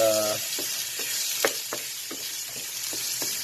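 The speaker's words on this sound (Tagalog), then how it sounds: "Just saute this." Baby squid and garlic sauté in olive oil with a steady, bright sizzle, broken by a few soft clicks of a utensil against the pan at irregular intervals; close and continuous, with no talking.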